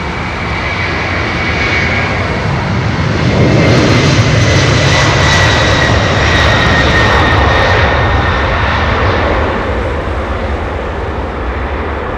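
A departing airliner at London Heathrow roars loud and continuous as it climbs away with gear and tail skid retracting, a broad steady jet rumble with a whining tone that swells and then eases slightly.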